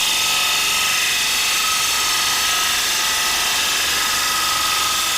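A wood lathe spins an ogee bowl blank while a turning tool is pressed lightly against the wood, producing a loud, steady mechanical whir with a continuous hiss of cutting and no talking.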